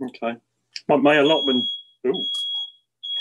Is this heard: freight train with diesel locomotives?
no